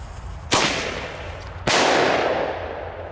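Two sharp, loud Thunderking firecracker bangs about a second apart, each a sudden blast with a long fading outdoor echo, the second slightly stronger, with no speech.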